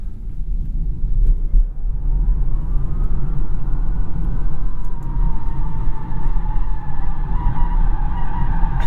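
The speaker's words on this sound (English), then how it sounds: "Let's hustle it around this on-ramp a bit." A 2021 Polestar 2 electric car hustled around a highway on-ramp, giving steady loud road and tire rumble with a faint rising electric whine throughout, no voices.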